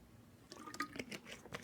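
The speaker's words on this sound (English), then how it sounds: "Take my quick drink of water here too." A person takes a quick drink of water, a few soft wet gulps and slurps close to the microphone, faint and brief.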